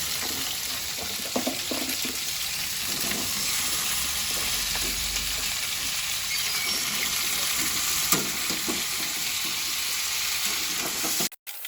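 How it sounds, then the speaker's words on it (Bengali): Beans and potatoes fry in a pan with a steady, close sizzle and hiss that runs unbroken throughout, with occasional stirring scrapes and small pops mixed in. "এখানে রান্না করছি একটা আর এখানে লঙ্কা পোড়া দিচ্ছি"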